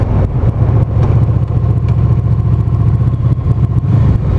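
A Honda VFR 800 motorcycle engine running close by: a loud, steady low rumble with a throbbing, slightly clattery texture and no clear revving.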